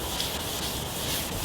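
Wet sandpaper rubbed by hand over a surface gives a steady, close, gritty hiss, even and unbroken from start to finish with no voices.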